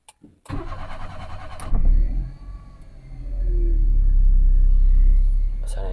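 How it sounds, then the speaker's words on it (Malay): Daihatsu Move L9 RS Turbo with a 660 cc engine cranks with a door thunk beforehand, catches and settles into a close, steady low idle that rises slightly then holds, with no talking. "Start kereta jap."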